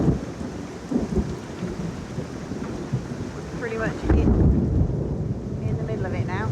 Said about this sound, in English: I don't know if you can hear that thunder and lightning, or thunder at least.